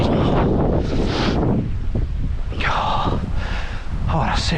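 Strong wind buffets a microphone outdoors during a run, a loud continuous roar and rumble with gusts that rise and fall throughout.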